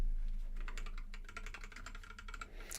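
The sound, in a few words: typing on a computer keyboard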